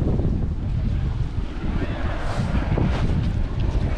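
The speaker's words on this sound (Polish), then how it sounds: "słuchajcie, świeżego wiatra" Strong wind buffets the microphone at the Fagradalsfjall volcanic eruption site in Iceland, a steady loud roaring rush with gusts, with no voices.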